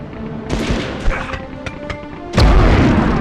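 A grenade blast in the Medal of Honor video game: scattered gunfire and small bangs, then one loud, deep explosion booms close by and rumbles on.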